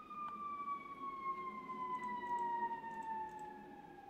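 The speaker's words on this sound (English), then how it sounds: "just in time for the sirens outside" An emergency siren wails outside, a faint, steady tone with a slowly falling pitch and clear harmonics, heard from indoors at a distance over low room hum.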